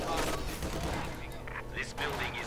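Machine gun fire in the World War II strategy game Company of Heroes 2 during a 1v1 match: rapid bursts of gunfire crackle steadily at moderate distance beneath a commentator's continuous talk.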